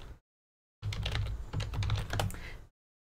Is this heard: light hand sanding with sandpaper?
no